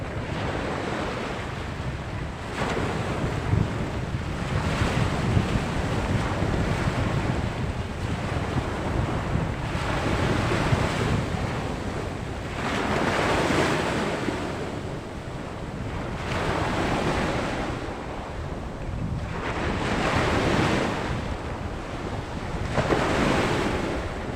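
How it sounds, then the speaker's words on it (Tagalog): Strong ocean waves roll and crash in slow, repeated surges, with wind buffeting the microphone throughout; no voices. "medyo malakas-lakas yung alon"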